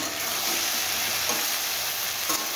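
Taro stolons frying in a pan over a low gas flame, a steady dense sizzle that fills the whole stretch without pause, close and fairly loud, with no talk.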